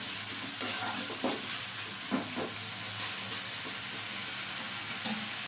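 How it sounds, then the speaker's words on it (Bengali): Spice paste and chunks of ash gourd sautéing in oil, a constant close sizzle broken by several stirring scrapes and clacks of a spatula against the pan, no voices. "চাল কুমড়োটা দিয়ে আমি মশলাটা কষিয়ে নিচ্ছি সামান্য একটু।"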